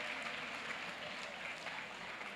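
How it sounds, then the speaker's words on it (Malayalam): Audience applause in an evening session hall at a church youth conference, a steady wash of clapping that holds evenly through the clip at moderate, slightly distant level. "ഒരു ക്ലാപ്പ് കൊടുക്കാം"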